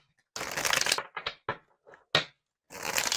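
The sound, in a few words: shuffling a tarot card deck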